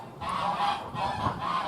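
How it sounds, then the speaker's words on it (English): Geese honk repeatedly and fairly loudly close by, their calls overlapping in a steady clamor with no voices, outdoors while a petrol lawn mower is being assembled. "shut up, geese."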